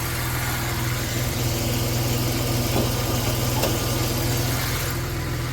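A 1990 Dodge Grand Caravan LE minivan engine idles steadily nearby, a low even rumble with a faint rattle, no voices.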